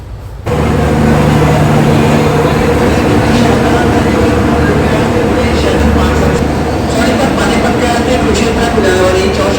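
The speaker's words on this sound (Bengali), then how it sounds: "ট্রেন ঢুকে গেল" A train pulls into platform seven of a busy railway station, its loud, steady low rumble and rolling clatter filling the scene from start to finish, with voices talking faintly underneath.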